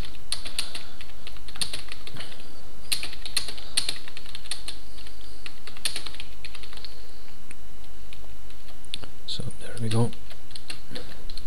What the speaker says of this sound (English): you can just click in here now and just start to type